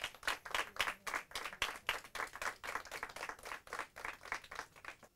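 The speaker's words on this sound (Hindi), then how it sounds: "टीम तिरंगा के लिए जोरदार तालियां।" An audience at a Hindi quiz show claps loudly for Team Tiranga, the individual handclaps coming through as a quick, distinct rhythmic beat, close and fairly strong, with no voices over them.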